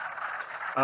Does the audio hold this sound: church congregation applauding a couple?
no